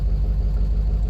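A straight-piped 7.3 Power Stroke diesel truck engine with the muffler removed idles at a steady, deep rumble, continuous and fairly close, with no voices.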